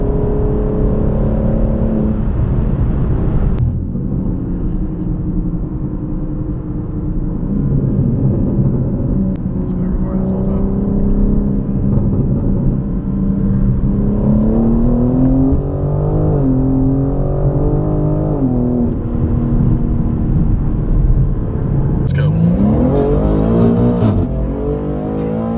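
A BMW M3 Competition G80 driven hard roars loudly from inside, its engine note climbing and dropping through gear changes with a continuous heavy rumble, while people talk now and then over it.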